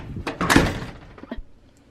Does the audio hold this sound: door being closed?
yes